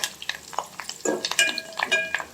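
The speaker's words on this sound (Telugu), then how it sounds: "మిర్చి, ఆనియన్స్, కరివేపాకు, కొత్తిమీర అన్నీ వేసుకొని మంచిగా ఫ్రై చేసుకోవాలి." Chillies, onions, curry leaves and coriander frying in a pan, heard as a light sizzle under intermittent spatula clinks and scrapes, close and fairly quiet.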